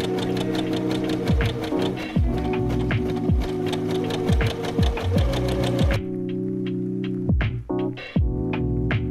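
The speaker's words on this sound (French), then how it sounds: "On va faire les ourlets pour protéger les coutures vu que j'ai coupé quand même un tissu qui s'effiloche hyper vite." Sewing machine stitching hems along the edge of fraying fabric, running steadily and loudly with a rapid needle chatter, slowing and stopping briefly partway, then starting again in short bursts.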